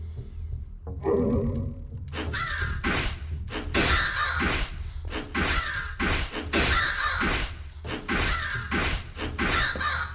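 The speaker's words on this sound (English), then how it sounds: "Everyone turns into crows." Crows caw over and over in the horror game House of Necrosis, loud, harsh calls coming in repeated bursts over a low game ambience, with no talk.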